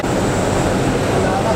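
A ceiling fan runs overhead in a hall during an Independence Day ceremony at a school for blind students, giving a steady, close whooshing rush with no break.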